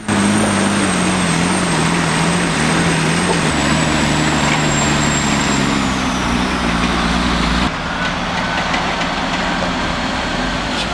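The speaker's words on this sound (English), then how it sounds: "Listen to that turbo." A loaded logging truck climbing a muddy hill on wet tires, its engine droning loud and constant with a high turbo whine that slowly falls in pitch, close and without talk.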